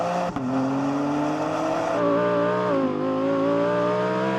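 A BMW M3 and an Audi R8 GT accelerating hard in a drag race, a loud sustained engine roar rising in pitch through the gears, close and continuous with no talk.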